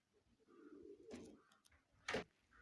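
A pigeon coos softly at a bird sale: a few low, breathy coos, then a sharper call near the end, fairly close and quiet, with no talking.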